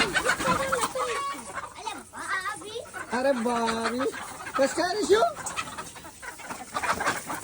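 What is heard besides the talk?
chickens clucking while being chased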